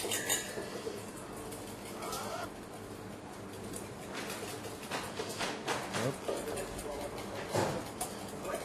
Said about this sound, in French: on va verser notre mayonnaise ratée et on va remélanger tout doucement